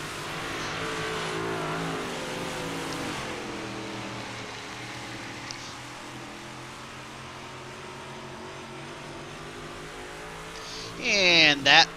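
Race cars circle the track during practice in iRacing at Charlotte, a steady engine drone with shifting pitch heard beneath a commentator's voice, ending in a few brief louder accelerating whines.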